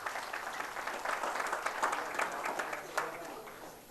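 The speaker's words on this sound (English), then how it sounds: "We clap." Audience applause greets the third-place team at a quiz results announcement, a dense, steady patter of many hands clapping for about four seconds with a few sharper claps standing out.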